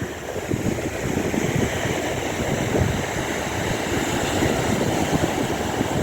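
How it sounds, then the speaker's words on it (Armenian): Waves break on the North Sea shore in a steady, unbroken wash of surf, with no voices over it. "Ալիքների ձայնը հրաշք է"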